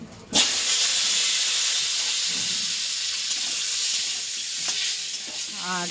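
Hot oil sizzling loudly in a pan before potatoes are fried, a sudden hiss that starts and then holds as a steady close crackle for several seconds.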